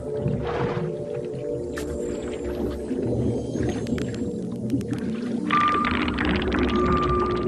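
Arctic whale, likely beluga or narwhal, calling underwater beneath sea ice, with whistles, chirps and clicking bursts over a steady low rumble of the water, fairly close and continuous.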